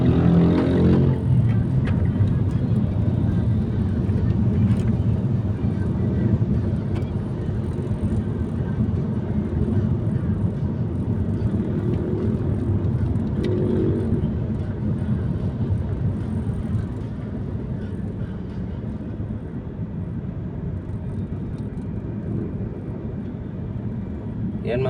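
Saturday road traffic, with many vehicles passing, makes a steady low rumble and drone that runs throughout. It is fairly loud and even, with occasional swells as individual vehicles pass.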